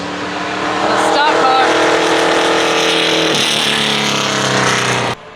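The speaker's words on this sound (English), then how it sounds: "I'm really impressed by this Cadillac CTSV. It's a brand new one that they're running on track." A stock Cadillac CTS-V race car engine roars loudly and steadily on track at VIR, revving up and passing close before cutting off abruptly near the end.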